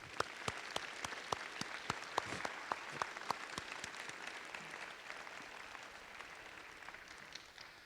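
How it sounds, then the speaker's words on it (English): An audience at a senior recognition ceremony applauds, with sharp, close individual claps standing out over a softer, steady background of clapping that gradually fades. "so I'd like to give them a round of applause"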